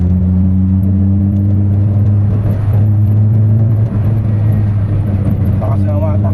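A Mitsubishi Lancer GLXi with a previous idle issue and many major parts repaired, on a test drive; its engine holds a steady low drone close inside the cabin with a faint jingle and muffled voices.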